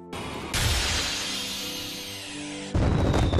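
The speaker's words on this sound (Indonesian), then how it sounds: "festival pun dilanjutkan dengan tambahan kembang api menggunakan sihir" Magical fireworks burst at an anime festival: a sudden loud whooshing crackle swells and sustains for a couple of seconds, followed by a second sharp burst at the end, with no talking.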